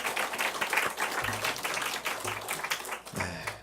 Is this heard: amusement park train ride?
no